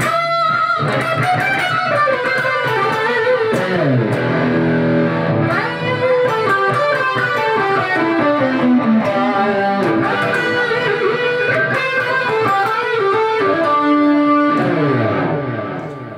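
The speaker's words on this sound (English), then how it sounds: "if we go back to the other tone, which is chorus and delay" An electric guitar through a Lexicon MX200 effects unit, set to chorus and delay, plays a flowing melodic line with shimmering, doubled tone and echoing repeats trailing each note, continuous and fairly loud.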